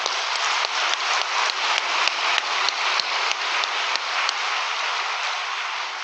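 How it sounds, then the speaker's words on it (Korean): A large audience claps together at a spiritual training gathering, a dense, steady wash of applause with a faint rhythmic pulse that holds for several seconds before easing slightly. "선영들에게 감사의 박수 올립시다."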